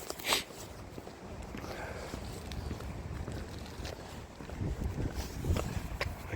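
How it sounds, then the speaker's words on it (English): Wind blows lightly outdoors near a creek along a trail, a soft uneven rush with gentle gusts and a few faint knocks and rustles, fairly quiet and without talking. "Wind is slightly blowing."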